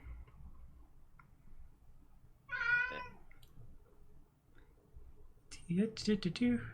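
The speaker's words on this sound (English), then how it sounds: "Everyone listen to Achilles meow while I dig this up." A cat meows a couple of times, a short wavering cry near the middle and a louder, more insistent meow near the end, with faint background noise.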